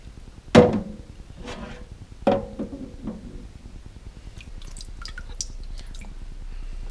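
A GoPro Hero 5 camera is lowered into water, giving two sharp splashy plunges followed by soft bubbling and dripping sounds, close and without talk.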